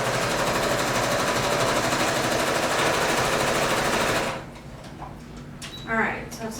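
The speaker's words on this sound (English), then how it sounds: "But then I just take the lining and I'm going to sew it shut." A sewing machine runs in a steady, loud mechanical whir while stitching the quilted lining of a tote bag shut, stopping abruptly after about four seconds and leaving quieter rustling and handling noises.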